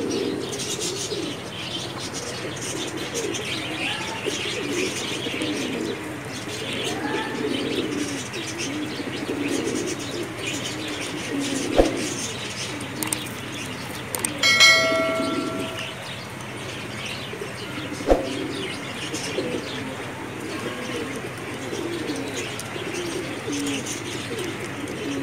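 Pigeons kept as a pair for sale coo in soft, low repeated phrases against a steady background murmur, with a few brief sharp knocks and a short bright chirp midway.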